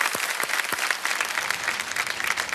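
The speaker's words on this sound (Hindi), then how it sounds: "तालियों के साथ इनका एक बार अभिनंदन हो जाए।" A studio audience on a TV show claps to welcome guests, with dense, steady applause filling the whole stretch at close range and no voices over it.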